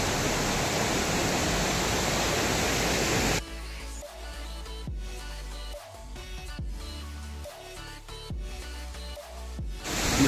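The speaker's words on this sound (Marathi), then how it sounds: "हा आहे धबधबा." Near the Dhutpapeshwar temple at Rajapur, a waterfall pours with a dense, steady hiss for the first few seconds, then drops away to fainter background sound.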